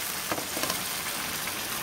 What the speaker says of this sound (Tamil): இதுக்கு நான் மல்லி இல புதினா கருவேப்பிலை பச்சை மிளகாய் அந்த விழுக போடுறேன்ப்பா